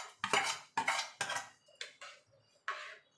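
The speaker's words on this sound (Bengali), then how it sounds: "এবার ভালো করে মিশিয়ে নেব।" A spoon scrapes and clinks against a bowl while sago is stirred with cold milk. There are several sharp, close taps and scrapes in uneven rhythm, with quiet gaps between them and nothing else heard.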